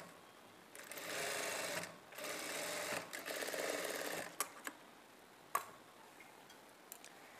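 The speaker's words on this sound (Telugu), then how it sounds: "ఇప్పుడు ఇదే స్టిచ్ మీద ఇంకొక స్టిచ్ వేసుకోవాలి" Sewing machine stitching a plain straight-cut blouse, sewing a cross stitch and then a second stitch over it, running in steady bursts with pauses, and a few sharp clicks near the end.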